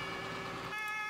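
Emergency vehicle siren in the PC game Emergency 4 (modded), a loud, steady two-tone wail with a pitch change partway through, sounding alone without talk.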